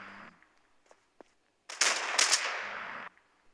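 Gunfire in a video game, a single dense roaring burst lasting over a second, loud and close after a few faint clicks and taps.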